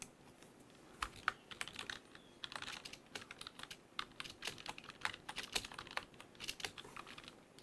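Rapid typing on a computer keyboard, close and fairly quiet, with irregular bursts of clicking keystrokes and no voices.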